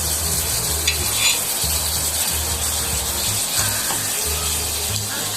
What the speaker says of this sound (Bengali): এবার আমি ভাজা মাছটা দিয়ে দিচ্ছি।